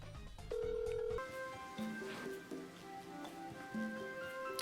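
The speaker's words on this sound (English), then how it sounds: "CJ is trying to call you?" A telephone ringing with an incoming call, a tonal electronic ring with steady pitched notes over a cluttered, music-like background, moderately quiet with no talk.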